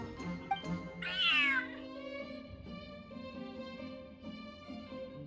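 A cat in the video game Genshin Impact gives one drawn-out, falling meow near the start, heard over steady background game music.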